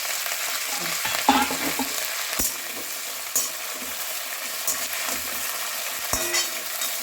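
Bottle gourd greens with salt and mustard paste fry in a pan and are stirred, producing a steady close sizzle with occasional spatula scrapes and knocks against the pan.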